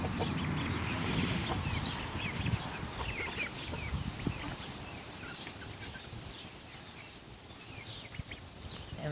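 Chickens, including Iowa Blues, clucking and calling softly in two outdoor pens, a steady flock murmur with scattered louder clucks and a light breeze throughout.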